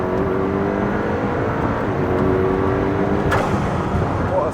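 A hypercar, such as a Porsche 918 Spider or McLaren P1, accelerates past the pits at a hypercar meet, its engine note rising in a steady whir and roar with a sharp passing burst near the end.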